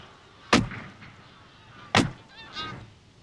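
Two sharp shotgun blasts boom out while wildfowling geese, each followed by a short decaying tail, with goose honks ringing faintly between and after the second shot.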